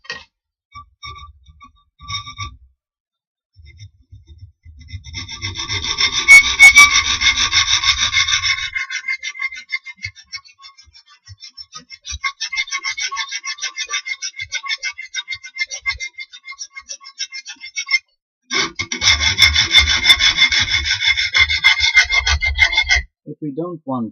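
A hand saw rasps through a metal part for a portable rocket stove in long bursts of back-and-forth strokes, close and loud, separated by pauses with small clicks and handling noises.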